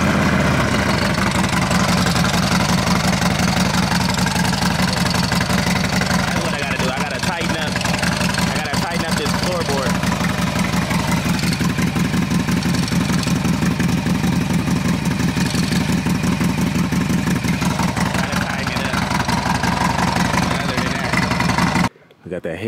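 A Dodge Hellcat idles close by, its engine a loud, steady rumble that holds with slight wavering for about twenty seconds before cutting off abruptly.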